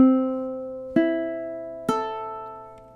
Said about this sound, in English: we play our open C, open E, and open A